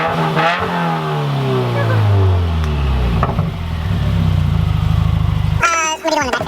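A 2018 Subaru WRX with a straight-pipe axle-back exhaust and no mufflers revs hard, its loud, raspy engine note rising and falling through several throttle blips before a sharp crackle at the end.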